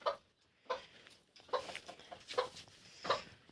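A broody hen clucks in a backyard coop, giving five or six separate rhythmic clucks at close range against quiet surroundings, with no talking.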